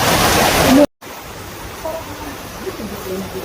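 Heavy rain pours loudly as a steady broadband roar at Roxas Market in Davao City, cutting off briefly before continuing as a softer, constant downpour with faint voices and background sounds underneath.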